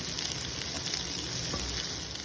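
Chopped garlic going into capsicum and onion frying in butter for pepper paneer: a steady, dense sizzle with light stirring, close and continuous throughout.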